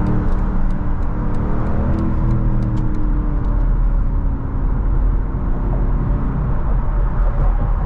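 A BMW M850 drives through New York City streets, its engine steady and then rising as it accelerates, set against the low rumble of the road, with faint ticking clicks early on.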